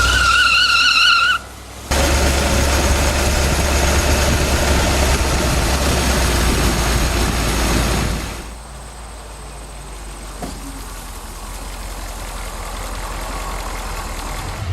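A 1942 Buick 8 running as a bare chassis with a seat roars loudly under hard throttle as its rear wheels spin, a broadband engine and tire roar that drops to a steadier, quieter drive after several seconds.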